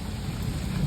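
Heavy rain pouring steadily outdoors with a low rumble of thunder, a dense broadband hiss filling the short moment with no voices.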